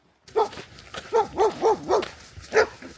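A dog outdoors in dewy fields on a riverside walk barks and yelps about five times in close succession, with a longer pause before a final bark, loud and near with no talk over it.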